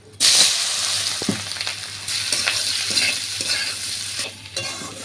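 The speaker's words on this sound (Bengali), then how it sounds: "তো চলো আলু কটা ঢেলে দিই" Potatoes frying in hot oil with nigella seeds, a loud sizzle bursting in as they drop into the pan, followed by ongoing crackling and several stirring scrapes, with no voices.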